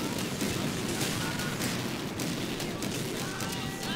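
Tanks and guns firing in the World War II strategy game Blitzkrieg 2, a steady dense barrage of overlapping shots and booms at constant loudness, with faint talk underneath.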